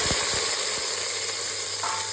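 Small sambar onions and a large onion frying in sesame oil give a steady, close sizzle throughout, with a few faint stirring knocks near the start.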